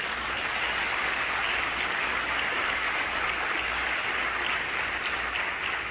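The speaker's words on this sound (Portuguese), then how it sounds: "Você pode aplaudir ao Senhor por isso?" A congregation applauds the Lord during a Portuguese-language sermon, a dense, even roar of many hands clapping that continues steadily throughout without a break.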